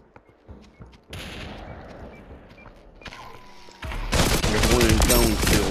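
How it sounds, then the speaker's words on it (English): Rapid gunfire in the VR shooter Population: One on a Meta Quest 2, starting as scattered shots and growing into a loud, dense burst of sustained fire over the last couple of seconds. "He's shooting."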